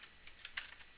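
Light typing on a computer keyboard while a network configuration command is entered, a quiet run of soft key clicks at an uneven pace, close by and alone.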